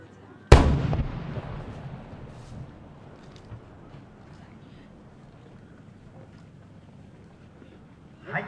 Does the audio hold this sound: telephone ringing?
no